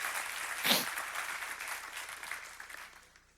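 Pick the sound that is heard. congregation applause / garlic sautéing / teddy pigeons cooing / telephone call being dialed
congregation applause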